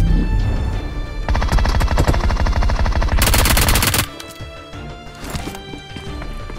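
Rapid automatic gunfire in the battle royale game BGMI, loud and dense bursts with bright crackling shots filling most of the clip, easing to scattered game effects near the end, with no talk.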